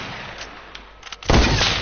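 Bursts of weapon fire in a Doctor Who video game's solo playground mode, several sharp shots followed by a loud, sustained blast close up, with no talking.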